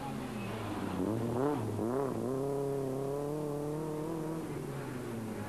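A rally car crawls slowly through a special stage with a damaged engine, its steady low drone rising and dipping in pitch as the throttle is gently worked, continuous and fairly close with no other sounds.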